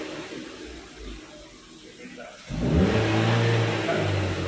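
A Chevrolet Spin's engine idles quietly, then jumps into a loud, sustained high rev held flat against the rev limiter for the last couple of seconds, with a voice heard over it.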